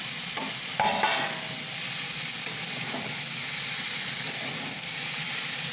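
Boiled vegetables for shukto tipped into a kadai of oil with fried panch phoron spices and stirred, giving a steady close sizzle and hiss with a few scraping stir knocks near the start.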